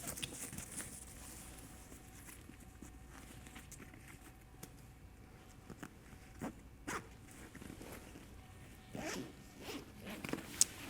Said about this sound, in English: Just unzip that basically all the way around, and then you'll see the bag expands.